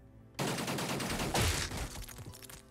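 Gunfire in the Xenonauts tactical game erupts suddenly in a loud, dense volley after a brief quiet start and rattles on for about two seconds before fading.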